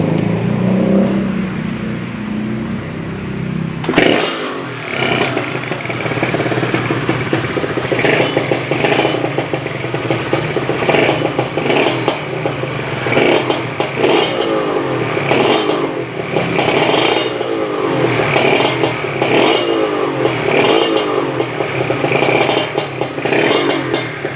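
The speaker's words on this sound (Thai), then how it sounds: "ปั๊มน้ำทำงานแล้ว" Water pump running in a Thai home setup with a slight leak, giving a loud, continuous mechanical hum and rattle after a sudden start, with irregular clattering bursts throughout.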